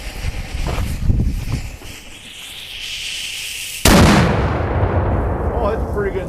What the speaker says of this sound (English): We're going to light the fuse for our 19th century fog cannon, which is charged with 4 ounces of fine grained powder.